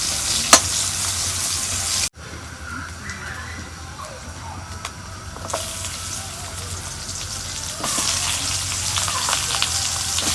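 Sliced onions frying in hot oil in a pan for a fish curry, a steady crackling sizzle that starts abruptly, with faint clicks along the way and a brighter surge of sizzling near the end.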